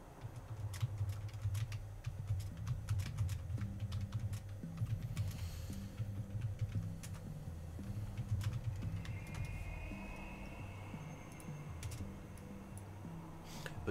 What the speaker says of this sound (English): I'm just going to type in there very quickly.